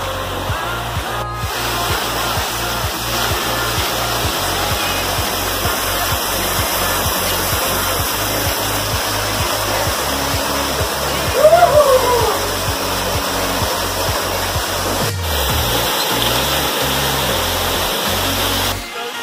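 Loud, constant rushing roar of a canyon waterfall in Hidalgo, Mexico, close and unbroken throughout.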